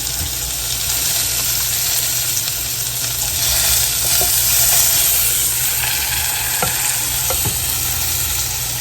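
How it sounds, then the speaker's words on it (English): Boston butt pork searing on high heat in a slow cooker, a loud, steady sizzle and hiss of fat with occasional soft pops and crackles throughout. "This is a high heat that it's on now for searing."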